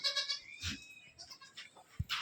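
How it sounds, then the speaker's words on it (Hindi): Goats bleating at a goat farm, several calls in a row, bright and fairly close, with a few short bursts and a low thump near the end. "ये टापरी में भी शुमार है बकरी है यहाँ"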